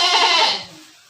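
A goat bleats once, a loud wavering cry that fades out over about a second, with nothing else heard.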